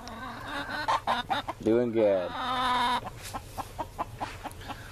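Chickens cluck in a backyard flock, and a rooster's short crow rises in the middle, with someone speaking briefly nearby.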